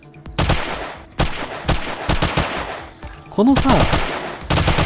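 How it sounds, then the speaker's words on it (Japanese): Machine gun fire in the video game 7 Days to Die during a zombie horde night: repeated short bursts of rapid shots, loud and close, with a brief speaking voice over the first bursts. "この銃の音がさ、なんか良くない、これ。 タタタタンっていう感じの。"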